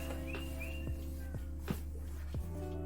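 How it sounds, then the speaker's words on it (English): Faint bird chirps come through briefly over a steady low hum, with a few soft thuds in between. "Oh, y'all hear the birds chirping?"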